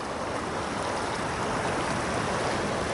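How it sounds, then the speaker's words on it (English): The Weber River in March runs as a steady, full rush of flowing water, a continuous broadband roar with no pauses and no voices over it. "Let me just show you how beautiful the river is here."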